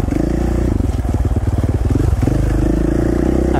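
A dirt bike engine held in first gear on a single-track trail chugs steadily and close, with rhythmic pulsing and rattling from the ride, no talk over it.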